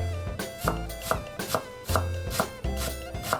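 A knife rapidly minces food on a cutting board, producing a quick run of sharp, evenly spaced chops, close and clear with no voices.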